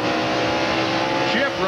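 A NASCAR stock car at Watkins Glen lifts off the throttle, its loud engine roar easing and dropping in pitch with a commentator speaking over it.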